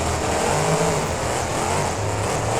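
A monster truck engine in BeamNG racing roars continuously and loudly, a dense steady drone with slight rises in revving and no voices.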